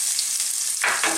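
Garlic sautéing in a pan for a Filipino chicken guisantes dish, a steady close hiss of frying with a brighter burst of sizzle near the end as the pan is stirred.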